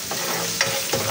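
Garlic sizzles in hot oil in a used frying pan, a steady crackling fry with a couple of scraping stirs cutting through.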